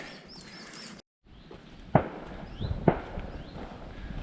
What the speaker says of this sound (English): So many of these like gunshots going off. Must be some kind of range somewhere.